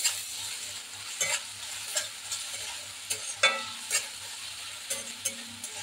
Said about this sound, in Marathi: मीठ टाकले ना कांदा लवकर भाजतो.